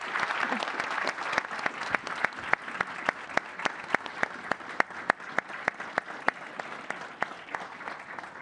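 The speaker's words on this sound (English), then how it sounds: "let's give him a round of applause and allow him to leave" Steady audience applause in a press-conference room as a departing prime minister leaves, a dense wash of many hands with a few sharper nearby claps standing out, moderately loud and continuous with no talk.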